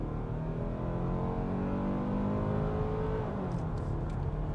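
A 2023 Hyundai Tucson with about 190 horsepower accelerates in sport mode, its engine note rising steadily through the rev range in a loud, continuous drone with rising harmonics, heard from inside the cabin.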